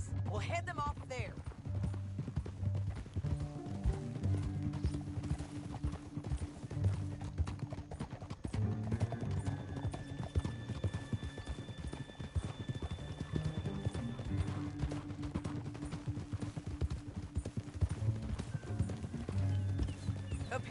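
Rhythmic clip-clop of galloping hooves in Red Dead Redemption 2 beneath a soundtrack of music, continuous and busy, with a horse whinnying at moments.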